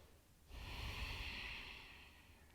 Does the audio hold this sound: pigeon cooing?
no